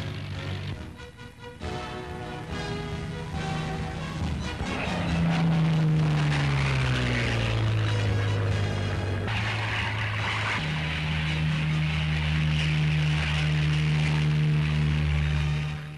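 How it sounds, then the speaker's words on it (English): A Grumman Hellcat fighter-bomber, successor to the Wildcat, flying past with a steady propeller-engine drone whose pitch drops and then holds, loud and alone over music. "Finally, America's new Grumman Hellcat."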